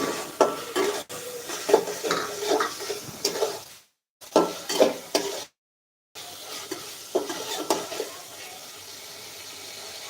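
Tangra fish frying in a pan while being stirred, with sizzling and repeated scraping strokes, broken by two short silent gaps, and no voices.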